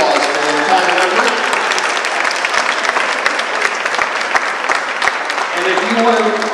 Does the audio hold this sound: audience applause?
yes